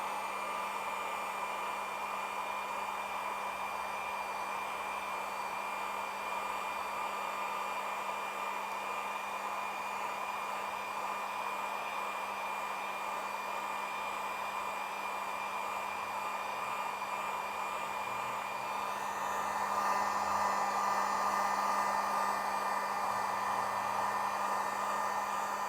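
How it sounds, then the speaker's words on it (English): A handheld heat gun blows steadily while drying screen-printed ink on a thick jacket logo, a constant airy whine with a fixed hum that holds for about 25 seconds, fairly quiet and alone. "You want to constantly be moving this heat gun around on the logo."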